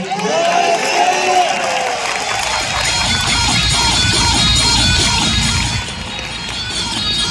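Broad, steady applause from a large stadium audience at a corporate anniversary gathering in New Delhi, dense and continuous for several seconds with a slight dip near the end.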